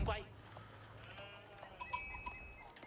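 Sheep in the Age of Empires IV strategy video game bleat close by in a few short calls, alongside soft game clicks, with a voice speaking.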